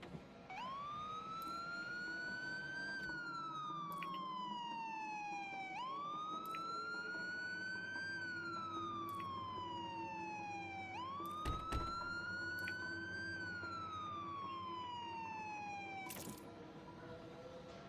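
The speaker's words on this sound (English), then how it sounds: "Turn the siren on after we open the doors." A wailing police siren in the game The Crew sweeps up and down in repeated cycles, loud and steady, with a synthetic, game-like tone and no talking.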